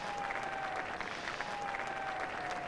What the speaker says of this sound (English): It's the applause, not only for him off the mark, but also for the 50 up.